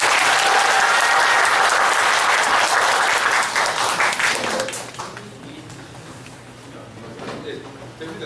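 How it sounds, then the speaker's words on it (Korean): Audience applause at a party leadership debate: loud, dense clapping from a large crowd that gradually thins and fades into scattered claps and hall murmur. "박수 부탁드립니다."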